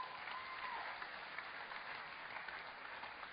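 Audience applause at the Underground venue during a watch project event, a steady, distant-sounding wash of clapping with no talk over it.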